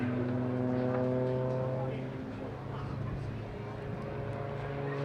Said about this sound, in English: This is a super dynamic maneuver which involves the aircraft spinning around its wingtips at -3 whilst dropping vertically.